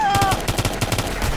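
Enemy shotgun fire in the game Ghost Recon Future Soldier rattles out as a rapid, evenly spaced burst of close, loud shots lasting about a second.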